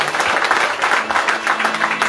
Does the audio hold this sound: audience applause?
yes